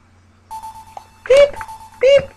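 An electronic alarm in the video game Phoenix Wright: Trials and Tribulations gives a steady, sustained beep tone, while a voice over it calls out short beeping sounds.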